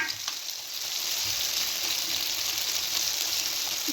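Tomatoes and chilies frying in hot oil make a steady, close sizzle with a bright crackling hiss that runs without a break.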